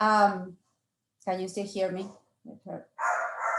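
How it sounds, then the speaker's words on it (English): A small dog barks indoors, a few sharp yips that come near the end of the clip, while someone speaks over them. "I told you she's this big, but she barks like a big dog."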